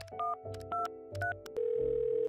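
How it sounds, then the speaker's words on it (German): Telephone keypad dialing tones in a toy family play scene: a few short two-note beeps in quick succession, then a long steady ringback or dial tone, fairly clear and with no talk over it. "Ich rufe da mal schnell bei Oma und Opa durch."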